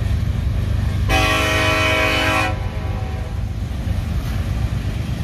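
A Norfolk Southern freight train with five engines up front rumbles steadily nearby while its horn blasts a long harmonic tone for over a second, then cuts off, leaving continuous rolling rail noise.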